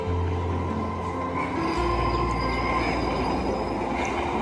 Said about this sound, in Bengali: তো এখন যাচ্ছে ট্রেন